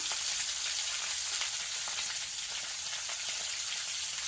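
Cauliflower florets fry in hot oil until reddish, producing a loud, dense, continuous sizzle with steady crackle and no pauses throughout.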